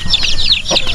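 Chickens and chicks in a screened backyard coop, a quick run of high chirps and clucks close by, loud and continuous over about a second.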